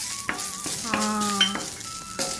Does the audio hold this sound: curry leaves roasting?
yes